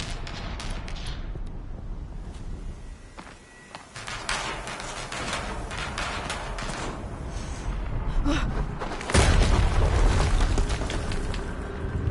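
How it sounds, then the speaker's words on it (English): Explosions in the Horizon Zero Dawn video game, heavy booming blasts with rumbling debris, one near the start and a louder burst later, amid continuous game noise. "Another explosion."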